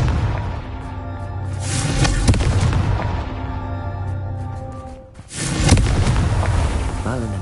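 A Confringo spell explosion in the video game Hogwarts Legacy gives loud booming blasts and rumbling bursts mixed with game effects, with a brief lull before another heavy burst.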